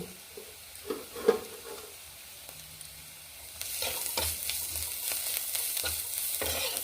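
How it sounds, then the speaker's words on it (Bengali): Onions, green chillies and grated ginger frying in a pan, first faint with a few scrapes and clinks, then a steady, louder sizzle with stirring for the last few seconds. "পেঁয়াজ কাঁচা লঙ্কা ভাজা হয়ে গেছে"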